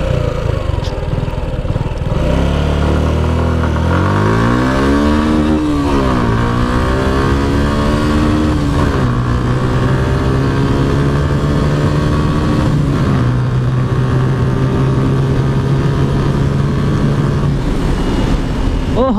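A Suzuki Gixxer SF motorcycle pulls away and accelerates through several gears, its engine pitch rising repeatedly then settling into a steady high drone, heard close and loud throughout a speed run.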